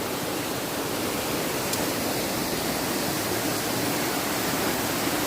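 Steady rushing roar of water pouring down at Kattar waterfall in a forest area, close and loud, constant with no breaks and no talking.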